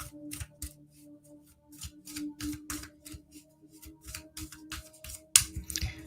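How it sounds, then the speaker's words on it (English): Rapid papery riffling and soft slaps of tarot cards being shuffled, repeated in quick uneven bursts, close up over a faint background hum. "These are so much easier to shuffle"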